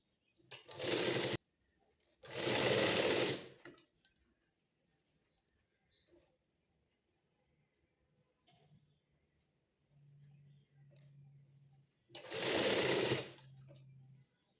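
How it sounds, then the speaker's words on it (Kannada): Sewing machine stitching a half-inch folded hem on patiala pants, running in three loud bursts of a second or two each with quiet pauses between, plus a faint low hum near the end. "ಸುಮ್ಮನೆ ಜಸ್ಟ್ ಅರ್ಧ ಇಂಚ್ ಮಾತ್ರ ಫೋಲ್ಡಿಂಗ್ ಹಾಕ್ಕೊಂಡು ಸ್ಟಿಚ್ ಮಾಡ್ಕೋಬೇಕು"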